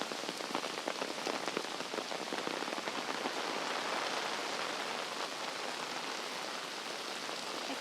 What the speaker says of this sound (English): watch and listen to the rain